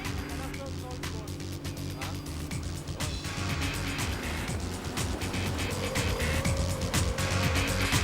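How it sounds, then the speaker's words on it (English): Toyota Corolla WRC rally car driven hard on an extreme gravel test track, a loud continuous engine roar with shifting revs and gravel noise, sustained throughout at close range, with a voice talking over it. "Didier Auriol and co-driver Denis Giraudet plough through the gravel to give the engineers a clear idea of just how robust and powerful the Corolla really is."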